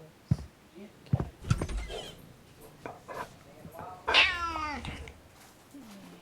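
A cat in the horror video game The Boiled One lets out a clear, drawn-out meow partway through, loud and close, with people talking before and after it.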